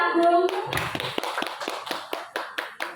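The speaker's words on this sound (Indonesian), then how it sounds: "tepuk tangan buat Pak Agung" A small group at a talk on positive school culture claps for Pak Agung, a handful of separate, fairly close hand claps at a loose rhythm following a brief voiced sound at the start.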